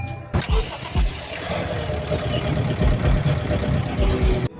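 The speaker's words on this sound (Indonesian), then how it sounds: "Oke, kita starter dulu mobilnya. Nyalakan." A Honda Mobilio 2020 RS CVT car engine cranks and starts up close, catching after a brief whir and settling into a steady mid-pitched idle with a few low thumps as it runs.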